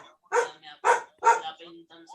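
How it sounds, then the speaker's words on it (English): A dog barks three times in quick succession, loud and close, during a call, followed by softer whimpering tones. "The dog is joining."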